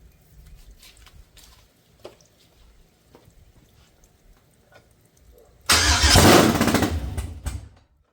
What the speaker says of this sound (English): 5-second idle without the pedal being hooked up